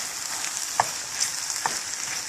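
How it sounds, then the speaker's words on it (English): A wooden spoon stirs turkey wing succotash in a pot over a steady sizzle, with a few soft scraping knocks at irregular moments, near and moderately loud, no voices. "Now, I need to stir this all together. So let me get a wooden spoon"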